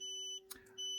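A hobby electronics circuit, a 4017 and 7414 counter with a signal fed to a transistor base, gives a loud, steady high-pitched electronic beep. The tone cuts out briefly around a small click, then returns.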